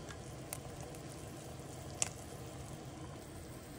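Chicken sotanghon soup broth simmers in a pot, giving a steady, faint bubbling hiss with one soft clink midway and no voices.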